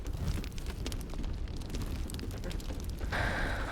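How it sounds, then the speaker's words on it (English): A fire catches and roars in Baldur's Gate 3, a steady, dense crackling rush that holds throughout and swells with a brighter hiss near the end. "Light this fire, set the mood."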